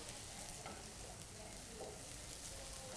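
Onions and vegetables frying in a pan for a cheese and vegetable frittata, with a steady, even sizzle that holds throughout at moderate loudness.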